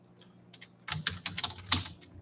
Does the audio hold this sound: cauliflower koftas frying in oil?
no